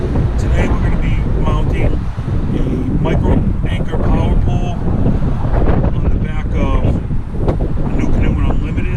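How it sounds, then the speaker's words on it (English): Gusty wind buffets the microphone outdoors in a noisy driveway, a loud rumbling roar running throughout beneath someone speaking close up. "here we are again in my noisy, windy driveway. Cars going by"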